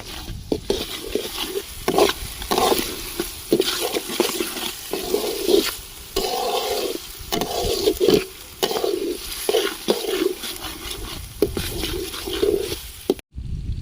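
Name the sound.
ginger garlic paste frying with onions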